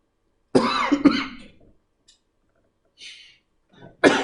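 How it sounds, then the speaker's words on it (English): A single person coughs a couple of times close up, followed by quiet pauses, a faint breath and the start of another cough. "Anybody else sick of my coughing?"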